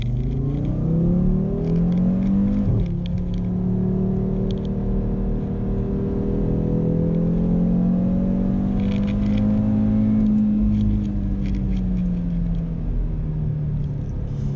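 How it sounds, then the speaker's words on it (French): A 2018 Audi RS3 engine hums steadily and climbs in pitch as it accelerates at night on small mountain roads, then eases and rises again, a constant close drone with no voices. "J'espère que vous appréciez le bruit du moteur"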